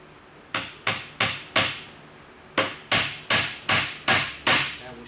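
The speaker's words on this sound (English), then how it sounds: "So I'm going to hold the sword in place while he nails it in." Hammer driving nails to fix a wooden sword in place on a table, two runs of sharp, loud strikes: four quick blows, a pause, then six more in steady rhythm, each ringing briefly.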